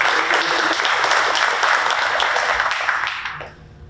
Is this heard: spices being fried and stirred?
no